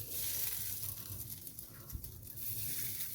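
Chicken kebabs coated in breadcrumbs drop into hot frying oil, and a steady sizzle with a soft hiss and crackle runs throughout at close range. No voices are heard.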